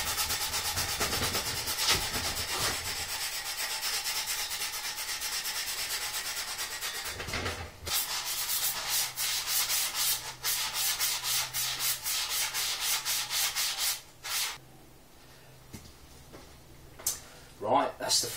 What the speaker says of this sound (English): I'm going to go down to a slightly finer one, and then a bit more, and a bit of hand sanding as well